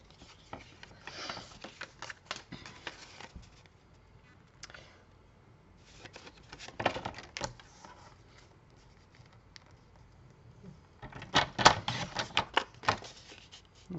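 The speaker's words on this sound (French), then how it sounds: "Donc là, je coupe un peu plus petit" Paper being cut for a handmade folded card, quiet irregular snips and rustling scrapes in scattered bursts, close and soft with no talking.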